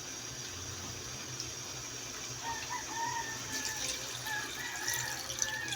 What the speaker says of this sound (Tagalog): kailangan natin na mag-add na ng water